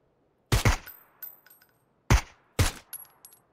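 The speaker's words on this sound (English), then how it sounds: "Yeah, I'm shooting." Gunfire in PUBG comes in two sharp, loud bursts of a couple of close shots each, with metallic clinks and brief echoes in the quiet between them.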